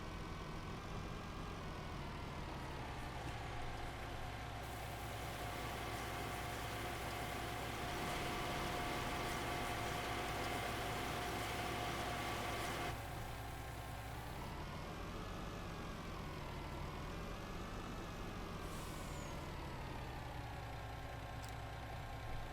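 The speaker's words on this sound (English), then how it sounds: "Those engine sounds really give me the irrits." A steady low tractor engine drone idles continuously in Farming Simulator 19, with a rise in pitch partway through as the revs climb and settle again.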